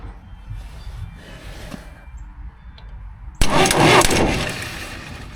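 A John Deere 410 backhoe engine cranks and catches, a sudden loud mechanical burst after quiet shop rustling, then running rough and gradually easing off.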